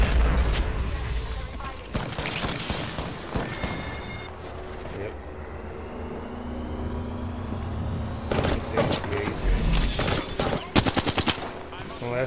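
Video game gunfire in bursts, loud and close: rapid automatic firing with sharp shot clusters, pauses of ambient game noise between volleys, and heavier bursts toward the end.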